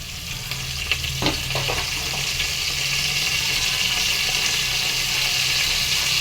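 Fenugreek seeds and curry leaves frying in hot oil, a steady close sizzle with a few crackling pops near the start, no talking.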